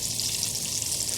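Liver and onions frying outdoors, with garlic in the pan: a steady, fairly faint sizzle, hissy and even, running without a break under no talk.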